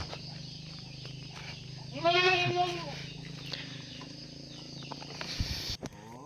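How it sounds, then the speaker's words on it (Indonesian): Goats at a village house in rural Sundanese West Java give one loud, wavering bleat at mid-distance, rising over a steady background of farmyard noise and faint movement. "di sini juga tuh ada kambing banyak juga ya"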